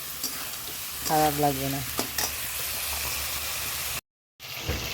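Cumin, onion and green chili frying in a pan, a steady close sizzle with a few stirring scrapes and a short break near the end, while someone speaks briefly over it.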